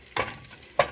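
Garlic frying in a pan, a soft close sizzle broken by two sharp stirring scrapes, brief and without voices.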